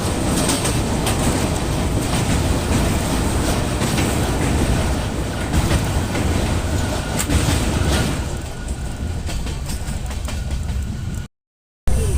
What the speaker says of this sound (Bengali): আর এখন একটা ব্রিজের ওপর দিয়ে ট্রেনটা যাচ্ছে